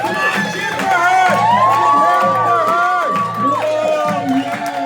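A crowd at a hypnosis stage show cheers and whoops loudly, with shouting voices rising and falling over music, alongside some clapping and excited calls.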